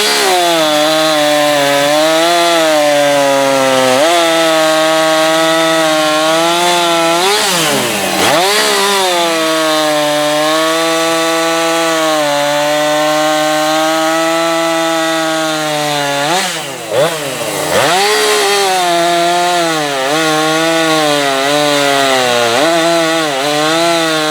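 A Husqvarna 465 Rancher chainsaw cutting firewood runs loud and steady, its engine note dipping under load in two brief bogs and then recovering, with no talking.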